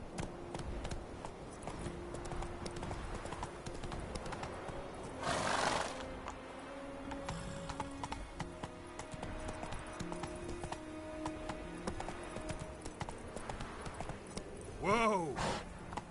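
Geralt's horse Roach from the video game The Witcher 3 moves at pace with steady rhythmic hoofbeats, a brief whinny rising near the end, and a voice speaking now and then over the clatter.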